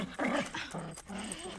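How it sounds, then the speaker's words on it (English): A dog introduced on a TV comedy set makes a short vocal sound, brief whines and growly yips close by, with no talk over it. "Meet Steve the dog."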